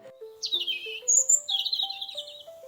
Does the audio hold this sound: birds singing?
yes